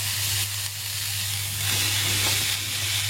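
Parwal tossed into a pan of onions fried until pink, giving a loud, steady, hissing sizzle that swells slightly toward the end, close up and with no talking.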